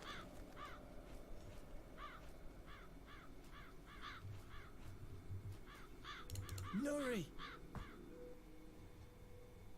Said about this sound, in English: the crows are going to come and eat it